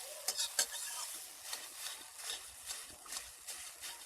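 Eggs fry in a pan with a soft, steady sizzle and occasional scraping stir strokes, fairly quiet and close, without talk.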